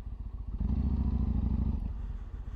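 A motorcycle engine during a ride is heard faintly: a low rumble that swells after a moment, holds steadily, then eases off slightly.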